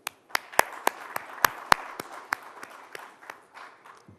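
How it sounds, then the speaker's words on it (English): Applause from a gathered audience at the India Today Conclave: sparse, separate claps that form an uneven, moderately close patter, with sharp individual claps standing out before the clapping thins toward the end. "Let me applaud all of you for coming."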